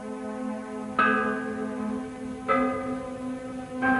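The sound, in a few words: ancient cast bell producing two notes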